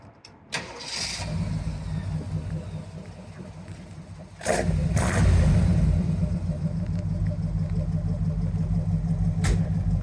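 A 1972 Jeep Wagoneer 4x4 survivor with its original 360 V8, headers and aftermarket exhaust cranks and fires up close by, settles into a rumbling idle, then jumps into a louder, deeper rev and holds it.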